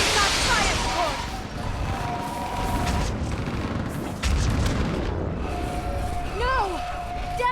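Artillery fire support pounds a building in the Mass Effect 3 battle at Thessia, booming explosions rumbling under a dense wash of combat noise while voices call out over the fight.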